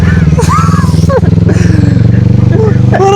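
A motorbike engine putters steadily and close by while two riders talk and laugh over it throughout.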